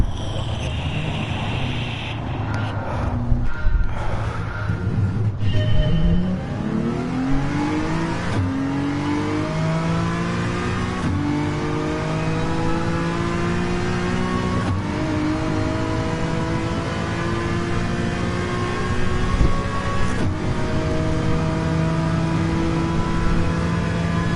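Race car in the video game Gran Turismo 7 revving and accelerating through repeated gear shifts, engine pitch climbing and dropping in long sweeps, loud and close with no talk.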